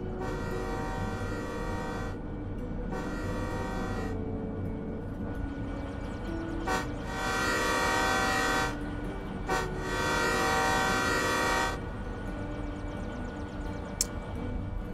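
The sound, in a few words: diesel locomotive horn in a video game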